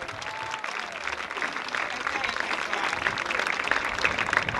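An audience claps backstage at a show with children, a steady, moderately loud burst of applause that grows a little fuller toward the end, with voices faintly mixed in.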